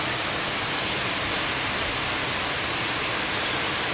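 Cinderford Brook in flood gives a steady, dense rush of flowing water, loud and continuous throughout, with no pauses and no voices.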